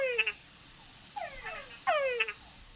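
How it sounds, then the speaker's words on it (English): Mating call of a male túngara frog: three whining downward-sweeping calls, loud and close, spaced by short pauses against a quiet background. "the mating call of the male Tungera frog"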